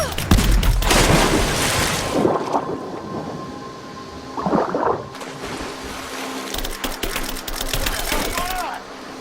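Loud rumbling explosions and rapid bursts of gunfire fill a combat scene in the Rise of the Tomb Raider video game, with a sharper blast midway and dense crackling shots near the end; voices talk faintly underneath.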